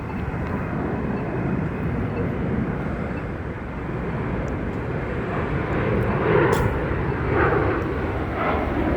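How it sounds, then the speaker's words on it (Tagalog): A large airplane flies overhead, its broad engine roar steady and loud for the whole stretch, swelling slightly near the end, with no talk over it. "Laki ng eroplano guys,"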